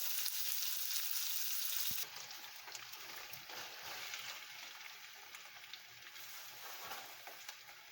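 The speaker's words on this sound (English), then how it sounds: "Now I'm gonna let the pork and the beef get nice and brown." Pork and beef browning in a pan for discada give a steady, dense sizzle and frying hiss that is loud and continuous throughout, a little softer after the first couple of seconds, with faint stirring scrapes and no talking.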